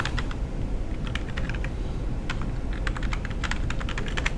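Keys clatter on a computer keyboard as a username and password are typed in, bursts of quick, close taps with short pauses, alone over a low steady background hum.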